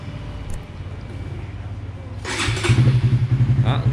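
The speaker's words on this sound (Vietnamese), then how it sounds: "Rồi giờ sẽ nổ máy thử nha, nghe thử." A Honda Winner 150 motorcycle fitted with a titanium exhaust cranks and fires up after a quiet stretch with faint talk, settling into a loud, rhythmic, pulsing idle up close.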